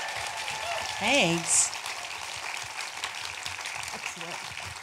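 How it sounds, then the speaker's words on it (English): Audience applause for actress Melissa McCarthy at a Q&A, a steady, moderately loud wash of clapping that runs the whole time under a man's brief spoken thanks. "Let's give another round of applause for Melissa McCarthy."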